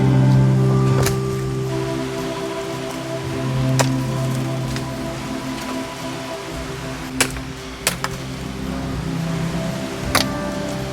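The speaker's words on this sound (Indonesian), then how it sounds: "Hujan kawan-kawan ya." Rain falls in a forest as a steady soft patter, with occasional sharper drops hitting nearby surfaces and a faint tonal hum underneath.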